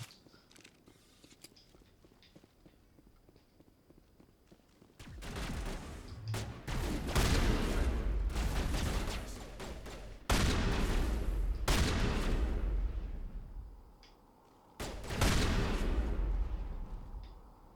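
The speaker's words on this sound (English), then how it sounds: "Go ahead and shotgun him" Shotgun fire in Mass Effect, bursts of loud, harsh blasts in three long clusters separated by quieter gaps, with faint mechanical clicks between.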